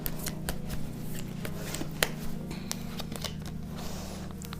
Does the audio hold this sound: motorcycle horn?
no